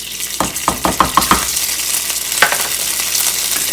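Cooked rice dropped into a hot pan with sesame oil, a loud close sizzle with a burst of sharp stirring scrapes and clacks, then a steady frying hiss with one more scrape.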